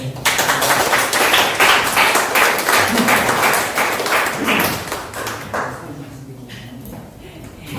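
An indoor audience applauds at the end of a lecture on city bus policy, dense steady clapping that tapers off near the end as a voice begins speaking.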